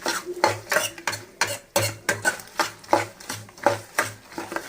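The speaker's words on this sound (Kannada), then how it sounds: "ಅದನ್ನು ಎಲ್ಲವನ್ನು ಸೇರಿಸ್ಬಿಟ್ಟು ಈಗ ಮಿಕ್ಸ್ ಮಾಡ್ತೀವಿ." A spoon repeatedly stirs and scrapes fried tempering with curry leaves through tamarind gojju in a metal pan while making puliyogare, a steady rhythm of close clinks and scrapes.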